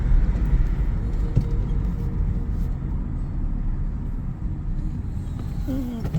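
Inside a moving car on the road, a steady low engine and tyre rumble fills the cabin, loud and unbroken from start to finish.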